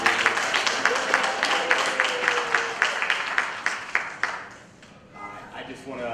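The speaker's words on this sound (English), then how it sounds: "Another round of applause to Dr. Boozer." Audience applause at a community forum on Alzheimer's, a dense stretch of clapping from a crowd that thins and fades toward the end, with a few scattered claps after.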